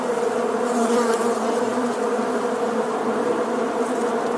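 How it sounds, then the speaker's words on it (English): Wasp buzzing close by, a continuous droning hum with a steady pitch and slight wavering in loudness, heard alone for the whole stretch. "Oh, cute. Another wasp."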